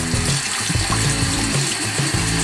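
Tap water runs steadily into a sink as a makeup brush is rinsed under it, splashing close by with small shifts in flow, no voices.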